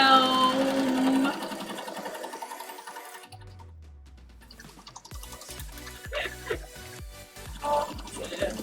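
Sewing machine stitching fabric, with bursts of rapid mechanical whirring and needle clatter that start and stop, mixed with other stream sounds and some talk.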